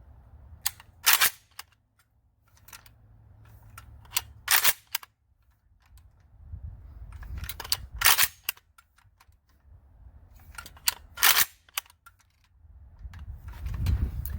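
An AK47 rifle is racked with the left hand over the top, four sharp metallic clacks spaced a few seconds apart, close and clear with quiet handling noise between and no talking.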